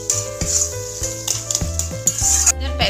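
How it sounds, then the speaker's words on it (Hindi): Spice masala being mashed and stirred in a pan for veg tawa pulao, with steady sizzling and frying plus repeated scraping strokes of a spoon against the metal, close and fairly loud. "ये मसाले को अभी अच्छे से मैश करते हुए पकाना है"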